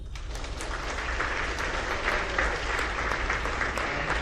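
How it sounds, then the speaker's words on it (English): Steady applause from a large crowd at an elementary school eighth-grade graduation, dense and continuous throughout, with no voices standing out. "give your parents a round of applause"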